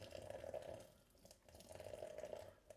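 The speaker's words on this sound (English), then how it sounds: "And now I'm going to start adding some water." Water at 95 degrees poured steadily into a cafetière of coffee grounds, a continuous close liquid rush that eases briefly midway and then resumes, with no talking.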